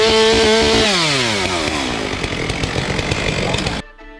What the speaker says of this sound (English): a hero and a chainsaw came to sort it out